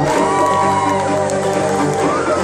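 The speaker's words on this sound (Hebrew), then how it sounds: "תנו לה כפיים" A studio audience at a children's show breaks into dense, continuous cheering and applause, a steady loud crowd roar with whoops and shouts on top, a few voices calling out within it.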